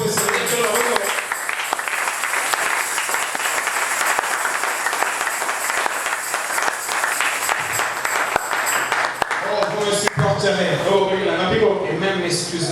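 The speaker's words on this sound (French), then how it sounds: "Applaudissez pour le Seigneur." A church congregation claps steadily for several seconds during a sermon, the applause fading as voices and music come in near the end.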